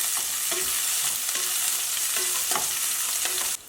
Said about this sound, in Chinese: 我们倒入花椒、八角、葱姜、蒜和辣椒，把它给再次炒出香味